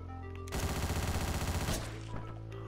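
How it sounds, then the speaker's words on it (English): Rapid machine gun fire bursts loudly for just over a second in the top-down action game Hotline Miami, with a steady chattering rhythm of shots, then drops back to the game's background music. "Oh, he's got a machine gun."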